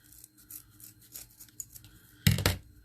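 Scissors work at rubber-banded tails on a Christmas tree wreath, close soft snips and rubbing rustles, ending in one louder, crisp cut near the end.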